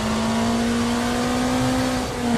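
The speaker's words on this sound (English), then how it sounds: "What car sounds really good in this game is the Ford GT GT1 car." Race-car engine of a Ford GT GT1 in a video game, one sustained, steady high-revving drone at close range and constant loudness, with a slight dip near the end.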